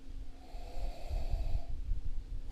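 Close, soft nasal sniffing and breathing over a glass of Giants & Gentlemen Old Tom gin, a steady inhale of about two seconds with low breathy rumble.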